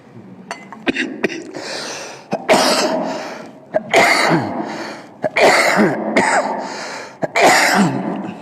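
Someone coughs repeatedly in harsh, rasping bursts, several fits close together with short pauses between, loud and near.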